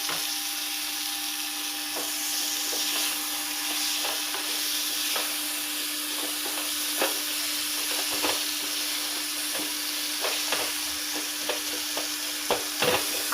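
Tomatoes sizzle in plenty of hot oil in a pan for an Andhra-style gongura tomato curry, a steady bright hiss broken by frequent sharp pops and crackles throughout.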